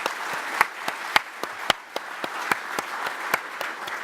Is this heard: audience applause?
yes